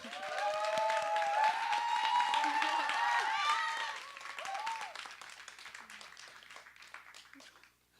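Audience applause at a university symposium in Mapo, Seoul, a round of clapping under a speaker's amplified voice that fades after about four seconds, leaving scattered claps.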